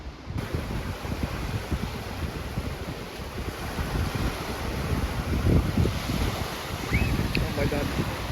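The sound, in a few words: strong wind outdoors by a Finnish lake at midsummer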